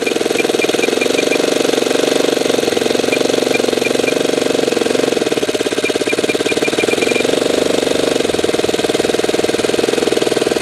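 A Saito twin-cylinder model engine idles very slowly with its trim adjusted, a loud, steady, rough mechanical chugging that runs continuously close by.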